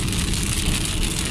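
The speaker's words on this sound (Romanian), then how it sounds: "Ia ce plouă, mă!" Dense, steady broadband hiss of heavy rain while driving in Egypt pours continuously with no pauses, loud and close, with no voices.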